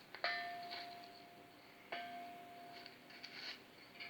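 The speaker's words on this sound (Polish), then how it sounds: "Tutaj jest dzwon." A metal bell is struck twice, about two seconds apart, during an outdoor walk around a yard. Each strike is a bright, close clang that rings on with a long, sustained tone that slowly fades.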